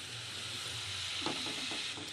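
Tomato going into a pan of vegetable curry already frying with chopped green chilli, a steady sizzle with brief stirring scrapes and clatter partway through, no voices.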